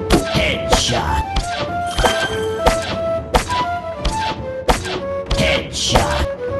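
Arrows land headshots in the stickman archery mobile game Stickman Archery Master, a loud rapid series of about a dozen punchy thunks mixed with bright tonal game chimes, one after another in quick succession.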